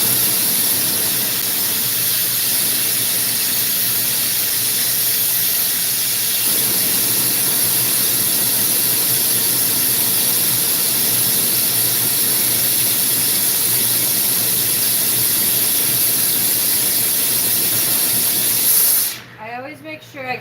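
A glassworking torch flame heating the bottom of a glass frit spoon, a loud steady roaring hiss that runs unbroken for about twenty seconds before cutting off abruptly.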